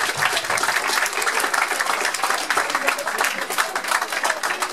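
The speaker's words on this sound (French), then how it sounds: "Ça mérite bien vos applaudissements, s'il vous plaît." A school audience applauds at a middle-school talent show semifinal. The hall is filled with dense, continuous clapping that holds at an even, fairly loud level for the whole stretch.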